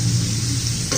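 Green bell pepper sautéing in an open pan makes a loud, dense, close sizzle that holds steady for a moment.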